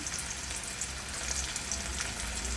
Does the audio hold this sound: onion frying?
yes